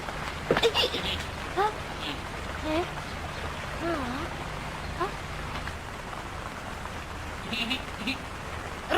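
Rain falls in a soft, continuous wash of patter and trickle, with scattered louder drops, and a voice speaks over it now and then.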